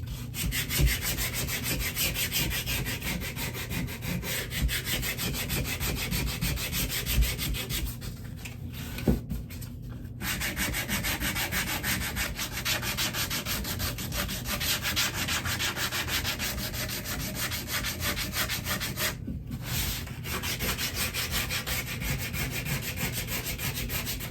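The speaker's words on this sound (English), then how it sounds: "now we're going to hit it with some sandpaper by hand" Steady, continuous scratchy rubbing of sandpaper on wood, close by, with rhythmic strokes and two brief pauses, no talking.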